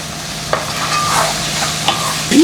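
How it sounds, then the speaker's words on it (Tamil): Mustard seeds, fenugreek, shallots and green chili fry in hot oil with a close, hissing sizzle. A few sharp stirring clicks and pops sound over it, and a louder surge comes at the end. "கடுகு வெந்தயம் கூட போடுவோம் சின்ன வெங்காயம் பச்சை மிளகா"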